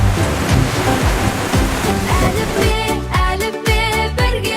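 Loud, steady rushing of flowing river water fills the whole stretch, with a musical backing of a children's alphabet song layered over it and no speech.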